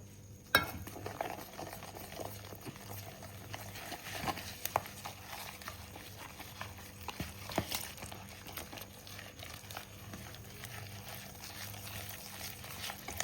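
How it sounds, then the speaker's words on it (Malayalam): Pazham pori batter made with flour, salt, sugar and water is stirred in a bowl, giving soft, faint, continuous scraping and mixing sounds with occasional light clicks, quiet and close. "വെള്ളം കൂടി ചേർത്ത് ഇതിനെ മിക്സ് ചെയ്തെടുക്കാം."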